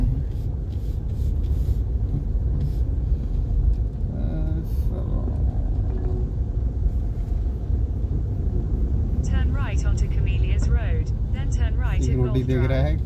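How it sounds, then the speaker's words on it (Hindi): A car idles and rumbles steadily as it is driven and turned around near a Gurgaon club house, with people talking over the engine, a horn-like tone briefly heard, and louder voices toward the end. "एक बार घुमा दो क्या गाड़ी आप लोगों के लिए? चल घुमा देता हूँ भाई"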